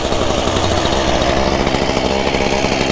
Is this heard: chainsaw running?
yes